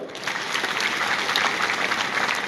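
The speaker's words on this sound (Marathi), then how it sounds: "यानंतर कॅमेरावाले, व्हिडिओग्राफर यांच्यासाठी वाजवा." Audience clapping together in a lecture hall for the cameramen and videographers, a steady dense wash of applause that holds at an even level for the whole stretch with no voices.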